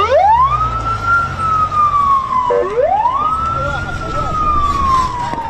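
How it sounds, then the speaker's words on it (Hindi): Ambulance siren on a street in Gaza: a loud wailing tone that sweeps slowly up and falls back twice, close and continuous over low traffic rumble. "सड़कों पर एम्बुलेंस की गाड़ियां दौड़ रही हैं"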